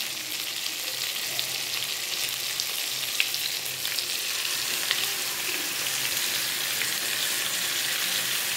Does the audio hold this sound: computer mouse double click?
no